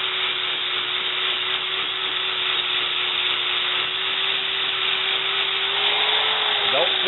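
A power tool scrapes metal on a Schwinn Mini Chopper frame, a steady, continuous buzzing whine holding one pitch for the whole clip, close and loud.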